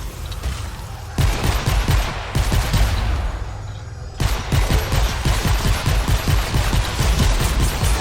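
Starter pistol fire in Fortnite Save the World, a loud, rapid stream of gunshots in two long bursts broken by a short pause, each shot punchy and close, with no talking over it.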